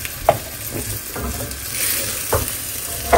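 Eggplant fries in hot oil, giving a steady, close sizzle with occasional scraping clicks of stirring on top and no voices.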